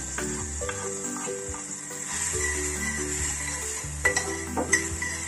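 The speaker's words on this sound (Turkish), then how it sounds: "Eriyen tereyağına soyup rendelediğimiz havuçları ekleyeceğiz" Grated carrots sizzle in melted butter and are stirred, a steady frying hiss under a tonal background with a few sharp scraping clinks toward the end.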